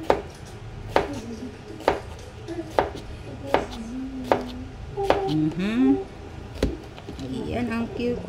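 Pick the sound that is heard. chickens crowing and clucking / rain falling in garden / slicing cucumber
slicing cucumber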